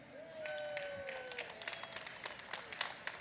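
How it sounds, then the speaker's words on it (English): An audience gives a round of applause: dense, steady clapping that swells quickly and holds, with a few higher whistle-like tones riding over the crowd. "Can we get a round of applause?"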